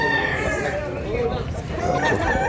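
A Bullstag rooster with blue legs crows amid a busy Cebu market crowd, the call steady and fairly close over a constant babble of voices.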